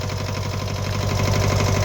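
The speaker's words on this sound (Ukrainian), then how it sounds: "Дев'ятисильний, маленький тракторець з валом отбору мощності чи потужності, дві передачі блокування." A small nine-horsepower four-wheel-drive tractor with a power take-off shaft runs steadily nearby, its engine putting out a loud, even low chugging beat throughout with no voices over it.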